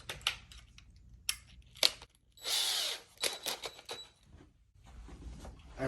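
A power drill with a 3/16 drill bit pre-drills into a wall stud for a TV mount, heard as a steady whirring run of about a second between sharp clicks and handling knocks, close by.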